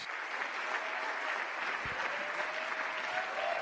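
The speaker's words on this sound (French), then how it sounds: "Applaudissez pour l'évêque Doug Hewitt Mills" An audience at a church meeting applauds the bishop, a sustained, even wash of clapping from a large crowd heard at some distance, with a faint sung or spoken tone threaded through.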